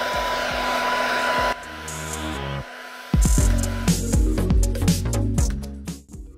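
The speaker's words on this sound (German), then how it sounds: "Mit einem Föhn kannst du nachhelfen." A hair dryer blows on freshly washed keyboard keycaps, a loud, steady whirring hum that changes tone and drops out briefly before starting up again at full strength, then fades at the end.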